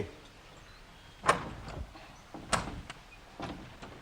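A door is worked at close range, with a few sharp clicks and knocks of the latch and frame spaced a second or so apart over a quiet, faint background.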